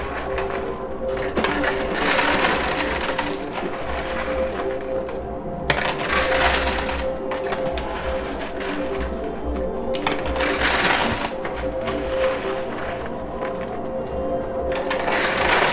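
High-limit casino coin pusher shoving piles of coins forward, a steady metallic clatter and jingle with recurring louder bursts as coins spill and drop, mixed with mechanical machine hum and arcade noise, fairly loud and close throughout.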